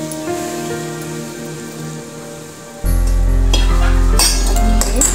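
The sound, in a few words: hot oil poured onto flour dough and mixed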